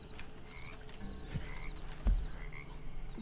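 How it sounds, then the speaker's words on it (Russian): Frogs croaking in a video game, a few low, distinct croaks scattered over a steady ambient game background, one louder croak near the middle, with no speech. "тут было 4 лягушки"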